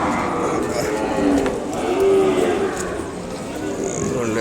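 At Kodada cattle market, Ongole cattle give a couple of short, low moos amid a constant murmur of voices and market bustle.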